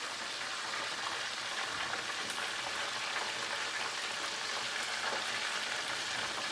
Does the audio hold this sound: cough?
no